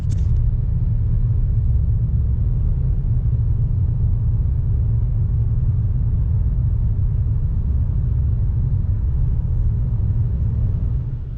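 A car climbing the road up Pikes Peak produces a loud, steady low rumble heard from inside the vehicle, continuous throughout with no talking.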